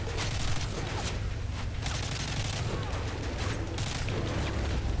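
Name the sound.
gunfire in Modern Warfare 3 video game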